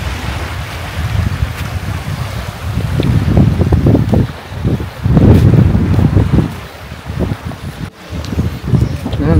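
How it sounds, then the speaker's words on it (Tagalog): Strong wind buffets the microphone in loud, gusting rumbles that swell and fade over several seconds, with no voices. "Mahangin nga lang."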